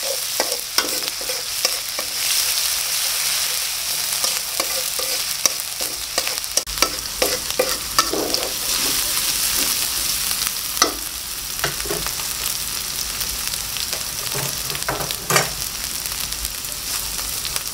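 Spices sizzle and fry in a pan for pork siobak, with a metal spatula stirring and scraping in irregular clicks over a continuous hiss. The sound is close and there is no talk.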